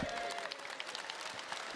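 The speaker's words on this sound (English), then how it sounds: "let's give Sam a round of applause" A crowd at a CitizenCon pre-show stream gives a brief burst of applause, many hands clapping in a dense, even patter that sounds moderately distant.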